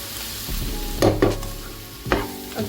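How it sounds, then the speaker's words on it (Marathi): A spoon stirs turmeric- and sugar-coated potatoes in a pan, giving a few scraping, clattering strokes over a faint background sizzle, with no talk. "ते मी यामध्ये घालणार आहे. छान मिक्स करून घ्यायचं आपल्याला."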